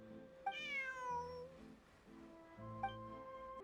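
A cat meows in a video game, a clear rising-and-falling meow followed by a second shorter one, heard alone over soft game background music.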